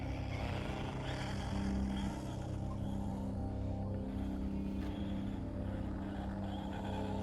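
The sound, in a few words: Traxxas Rustler RC car driving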